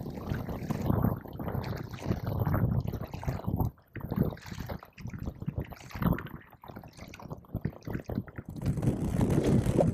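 Kayak paddling on open water in wind, with splashing strokes and water sloshing near the boat under steady gusty wind buffeting the microphone.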